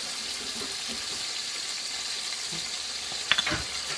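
Chilean sea bass fillets fry in a pan with a steady, even sizzle that holds through the clip, then a brief clatter of handling near the end.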